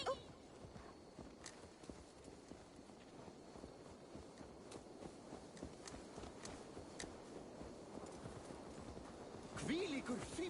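Horse hooves walking in Assassin's Creed Valhalla on PS5, a steady, moderately near clip-clop over a game ambience, with a voice speaking briefly toward the end.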